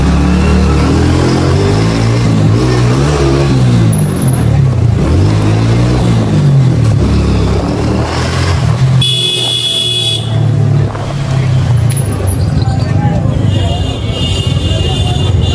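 A motorbike rides through a dense traffic jam during the Eid shopping season, with a loud, constant engine and traffic rumble. Horn blasts and shrill buzzing tones cut through it at intervals.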